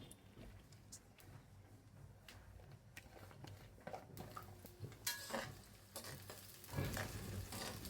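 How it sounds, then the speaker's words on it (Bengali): Quiet sizzling of onions frying in a pan, with a utensil stirring and scraping now and then; no talking. "আমি এটা 2 মিনিট ভাজা করে নিব"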